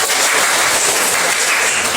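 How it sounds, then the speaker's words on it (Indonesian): Applause from a classroom group for presenting classmates, loud and close, with steady dense clapping filling the whole stretch. "Tepuk tangan untuk kelompok Iva."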